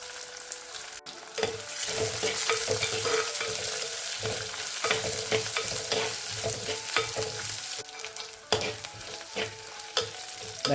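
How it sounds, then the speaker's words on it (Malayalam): Green chilli and coconut pieces sautéing in a pan for dried shark curry, a steady loud sizzle with repeated scraping stirs throughout and no talking. "ഇനി നമുക്ക് തേങ്ങാക്കൊത്തും കൂടി ചേർത്ത് ഒന്ന് വഴറ്റിയെടുക്കാം"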